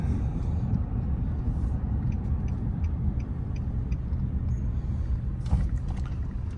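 A car moves slowly near ruins and earthen ramparts, giving a steady low rumble of engine and road noise throughout with a few faint ticks, and no voices.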